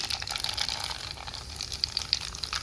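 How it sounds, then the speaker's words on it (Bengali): Nigella seeds tempered in hot oil for a mankochu dish, sizzling and crackling steadily throughout, close and alone with no talk. "এবার আমি এর মধ্যে কালো জিরের ফোড়ন দিলাম"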